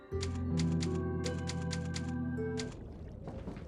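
Typewriter save point in Resident Evil 4, a burst of rapid mechanical key clacks in a tight rhythm over a sustained musical chord that cuts off, leaving a quieter ambient tail.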